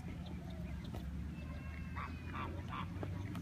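Geese at a nesting area give a few short honks and quacks, faint and somewhat distant, over a low rumbling background.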